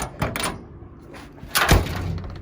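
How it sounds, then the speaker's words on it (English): A door on a 1967-72 Chevrolet C10 pickup slammed shut with a fitted Trique latch, two solid thunks about a second apart, the second heavier and louder, close to the listener. "You gotta slam the shit out of it until it closes right."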